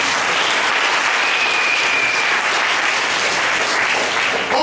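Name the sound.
church congregation applauding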